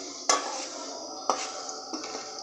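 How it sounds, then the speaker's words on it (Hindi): Onions frying in a cooking pot for a home-style aloo matar curry, with three distinct metal clanks of a spoon stirring against the pot over a steady soft hiss, close and fairly loud, no talking. "अभी इसको हमने थोड़ा और फ्राई करना है, थोड़ी देर इसको और फ्राई करेंगे।"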